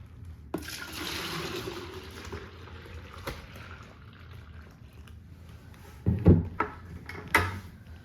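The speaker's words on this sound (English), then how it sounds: "Start emptying the buckets a gallon at a time into here." Fresh milk is poured from buckets into a gallon jug on a farm, a faint gurgling flow that is quiet and close, followed by a few louder knocks and clunks of the containers near the end.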